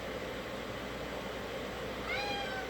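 A faint cat meow rises near the end over a low, steady background hum.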